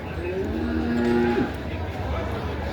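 A black buffalo at a livestock market lets out a long, loud low moo close by, rising and then breaking off, followed by quieter market background noise.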